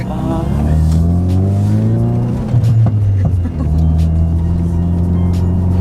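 A car with launch control accelerates hard: the engine note climbs steadily through the revs, drops briefly at a gear change, then rises again, loud and close, with a rough exhaust edge.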